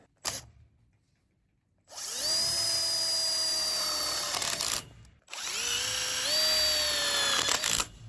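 Two bursts of a power drill driving screws through aluminium greenhouse roofing into a purlin, each a loud, rising whine lasting a few seconds, separated by a short pause, with no talking.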